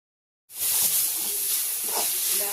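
Tamarind sautéing in a pan for chutney, a steady bright sizzle that bursts in abruptly after half a second of silence and then holds evenly, fairly close, with no one talking.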